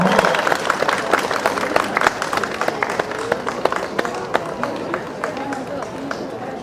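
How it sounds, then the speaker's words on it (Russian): Applause welcomes nervous children onto a stage at a Sabantuy festival concert, a steady wash of many hands clapping with sharp individual claps standing out, continuing throughout with a voice occasionally heard over it. "Давайте поприветствуем их аплодисментами."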